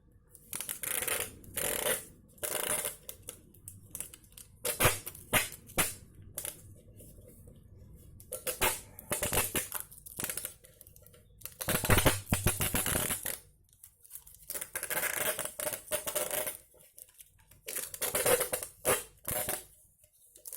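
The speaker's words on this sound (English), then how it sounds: "We're going to sellotape this in place." Sellotape is repeatedly pulled off the roll and pressed onto a homemade cardboard camera gimbal, giving close, bursty ripping and crinkling sounds in irregular clusters across the span.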